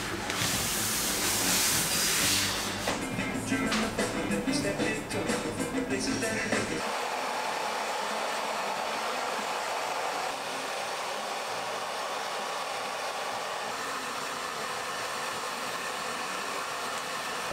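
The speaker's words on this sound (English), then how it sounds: "now we're going to blow dry and straighten" A hair dryer blowing hair straight during a Japanese straight perm appointment: a loud opening blast, then a steady airy whoosh running continuously, alone without speech.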